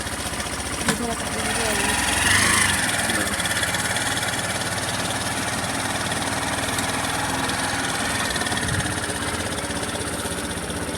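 A motorbike engine runs steadily and fairly close for the whole stretch, with a broad, even rumble. A voice speaks briefly over it.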